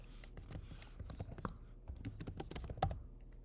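Quiet, close keyboard typing on a computer, irregular clusters of light key clicks with brief pauses and a sharper keystroke near the end, no voices.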